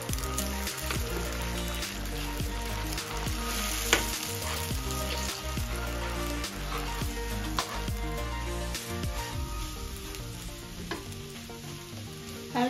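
Scrambled eggs frying and being stirred in a pan over turned-down heat for breakfast, a steady close sizzle with scraping stir strokes running throughout, no voices.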